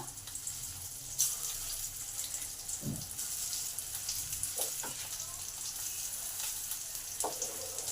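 Steady, quiet sizzling of pointed gourd frying in oil over low to medium heat continues throughout, with a few brief clinks and stirring sounds.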